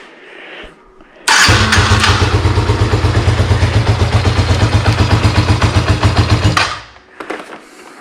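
A cold Raptor 80 engine bursts into loud, steady running with the choke on, a rapid rhythmic chug that holds for several seconds before cutting off abruptly.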